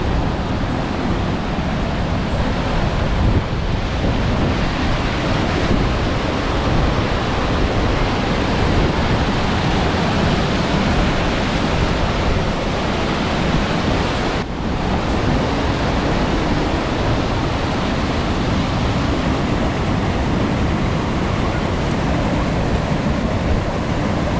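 A Yukon waterfall roars steadily at the end of a short hike, loud broadband rushing water with wind buffeting, continuous for the whole stretch and without voices.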